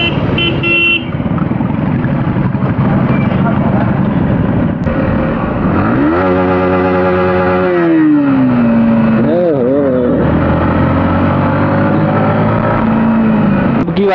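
A Yamaha MT15 and a Royal Enfield ride together on a road, their engines droning loudly and rising in revs with audible gear changes, the pitch sweeping up and down under steady wind rush.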